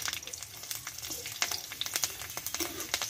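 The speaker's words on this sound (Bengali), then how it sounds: "কাঁচা লঙ্কা রসুনটা আমি একটু ভালোভাবে আমি ভেজে নেব।" Green chillies and garlic fry in oil in a pan, a close, busy crackle with scattered sharp pops and light stirring over steady sizzle.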